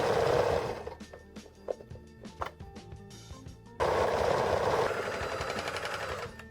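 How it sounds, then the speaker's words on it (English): A sewing machine stitches pieces of a garment together, its fast rattling needle running in bursts that stop and start, with a short lull of lighter clicks before a loud steady run resumes, close up and with no voices. "And after I finish sewing everything together,"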